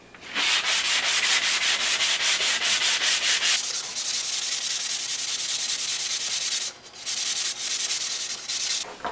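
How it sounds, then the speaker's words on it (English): A sanding sponge rubs lightly over a wooden tool handle with old finish, producing close, steady rhythmic scratchy strokes in long runs with a brief pause between them. "I'm just going to take my sanding sponge and just lightly sand my handle to smooth out any rough spots"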